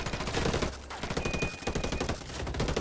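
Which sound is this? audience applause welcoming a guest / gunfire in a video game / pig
gunfire in a video game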